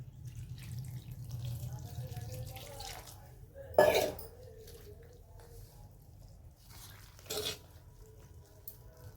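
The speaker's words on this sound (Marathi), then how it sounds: "आता आपण पाणी टाकून परत एकदा मिक्स करणार आहे।" Water is poured into pumpkin thalipeeth dough and worked in by hand, giving faint wet squishing and splashing with two louder pours or slaps, fairly quiet and close.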